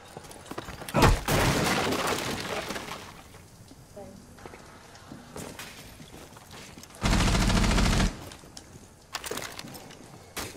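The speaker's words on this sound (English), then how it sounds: "Shoot the barrier. Break it." Gunfire in Rainbow Six Siege rips into a barrier until it shatters: a sharp burst near the start, then a dense, loud sustained volley later, with players talking over the action.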